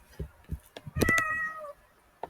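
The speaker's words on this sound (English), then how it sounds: "please ignore any meows you hear in the background." A cat meows once, a drawn-out cry near the mic, with soft background noises around it.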